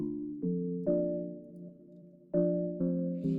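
A bright synthesized melody of sustained tones steps through several pitches, evoking a phone ringtone, loud and alone.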